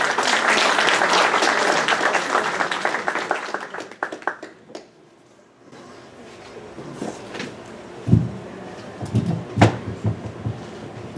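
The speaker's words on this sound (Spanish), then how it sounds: "Recibámoslo con un fuerte aplauso, por favor." Audience applause in a university hall at a Mises Peru lecture in Lima, welcoming a speaker: loud sustained clapping that fades after about four seconds, followed by quieter room noise, shuffling and a few knocks.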